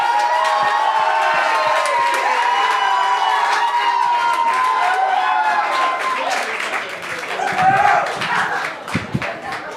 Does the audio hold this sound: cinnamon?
no